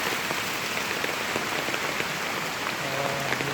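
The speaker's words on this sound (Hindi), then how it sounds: "2 दिन से लगातार बारिश हो रही है" Steady, continuous rain falling near Nainital waterfalls, a dense, even hiss of drops pattering on surfaces close by, with no talking.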